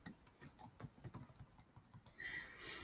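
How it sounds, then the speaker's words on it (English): Rapid, soft clicking of typing on a computer keyboard, irregular keystrokes close to the microphone at low volume with no speech. "and then you can begin typing."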